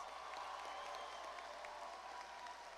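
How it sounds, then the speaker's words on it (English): An audience at the East Alton - Wood River Community High School graduation ceremony claps in a faint, distant, continuous wash of applause that holds steady throughout. "let's give her another round of applause"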